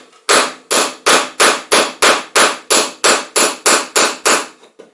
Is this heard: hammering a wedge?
yes